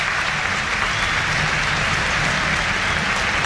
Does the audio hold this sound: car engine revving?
no